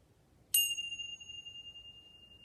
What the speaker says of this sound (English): I'm just going to ring the bell a few times.